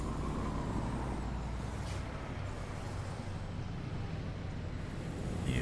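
Euro Truck Simulator 2 truck slowing with a steady low engine drone and broadband rush, a faint hissing brake release near the start and end, no voices over it.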